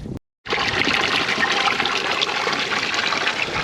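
Water spills over weirs into a sluice channel set up for gold recovery, a loud, steady rushing flow that starts abruptly after a brief moment of silence and keeps going without letup.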